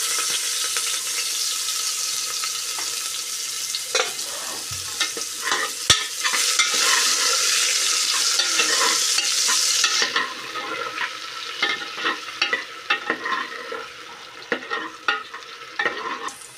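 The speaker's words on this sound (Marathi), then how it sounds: "कांदा छान परतून घ्या।" Finely chopped onion sautés in a pan for a cashew bean curry, a steady broadband sizzle with frequent scraping stirs; the frying hiss thins after about ten seconds while the stirring clatter continues, close and with no voices.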